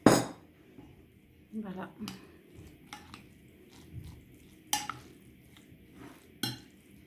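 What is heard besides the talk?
mixing tuna, salt and egg in a bowl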